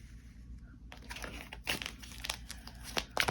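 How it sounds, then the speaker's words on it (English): Papery crinkling and rustling as tarot cards are shuffled during a reading, starting faint and growing busier, with soft flicks and snaps. "And we'll continue to shuffle."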